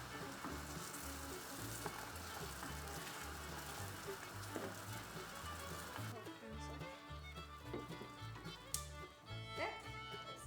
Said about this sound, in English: Now this is boiling.